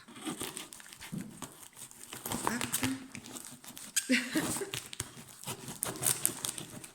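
Packing tape being pulled and torn from the underside of a cardboard box, a crinkly ripping and crackling in several bursts, with someone speaking French close by over it.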